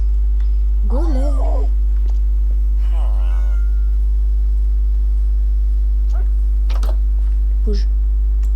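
A cat meows a few times in a hardcore survival video game, over a loud constant low hum, with a voice speaking in between.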